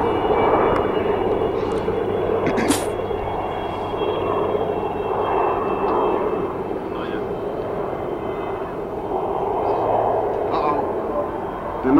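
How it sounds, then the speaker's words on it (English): A Lockheed CP-140 patrol aircraft sets up for a high-speed airshow pass, its engine drone a continuous moderate rumble from some distance, with crowd voices and commentary over it. "The CP-140 is setting up for this next pass"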